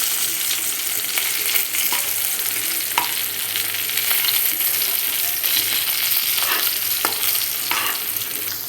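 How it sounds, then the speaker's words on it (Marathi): Okra (bhindi) fries in a pan and is flipped over, giving a constant close sizzle broken by occasional scraping taps of a spatula, with no one speaking. "इथे भेंडी आपण परतवून घेत आहोत."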